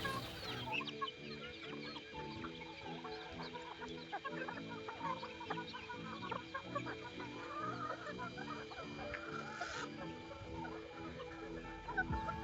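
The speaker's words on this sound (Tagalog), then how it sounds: "Yung pinakain mo sa mga manok." Farm chickens fed fish innards cluck steadily and close by, a busy overlapping chorus of short clucks with a faint crow somewhere in the flock, all fairly quiet with no talking.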